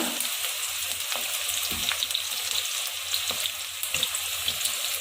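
Okra, vendakkai, frying in hot oil for a spicy fried snack, giving a steady, dense crackling sizzle with scattered pops and light stirring clinks, close and continuous with no talking.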